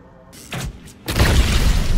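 A sudden heavy explosion in Baldur's Gate 3 follows a couple of short whooshing bursts, then a loud rumbling blast with debris that fills the rest of the moment, close and booming.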